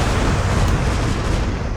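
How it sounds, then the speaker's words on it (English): Explosions in the video game StarCraft form a loud, dense, continuous roar of overlapping booms and blasts filling the whole moment, with no talking. "avoid these awful explosions"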